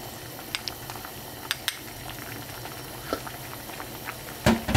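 Doenjang stew with wild chives simmers in a pot, giving a soft steady bubbling with scattered small pops and ticks, plus a louder clatter at the very end.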